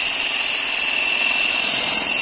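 A Yamato 40V battery-powered hedge trimmer runs steadily, close and loud, with a high, even whine and a buzzing motor tone throughout.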